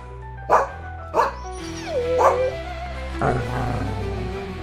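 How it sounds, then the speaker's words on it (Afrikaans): A dog barks in a short series of sharp yips and bow-wows, with a soft whimpering whine between them, fairly close over a steady low background hum. "Hoekom blaf jy so?"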